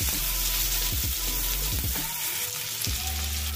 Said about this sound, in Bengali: তো এগুলোকে আমি একটুখানি ভেজে নেব।